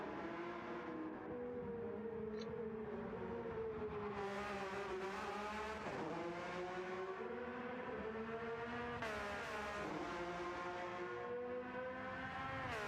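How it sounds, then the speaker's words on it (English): Porsche 992 GT race car in a Bathurst 12-hour sim race, engine note droning and rising through gear changes, continuous and loud with shifting pitch, other cars audible nearby, no talking. "Vipers, or the Porsche do sound really, really good."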